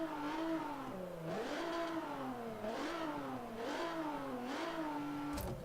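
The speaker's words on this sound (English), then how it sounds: "I'm sure I didn't used to be able to rev the engines up in the garage" Car engine revving in the garage menu of Forza 7, a C-class build, rising and falling in repeated rev sweeps with clear whining harmonics, steady and prominent with no talk.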